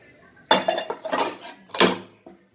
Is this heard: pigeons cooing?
no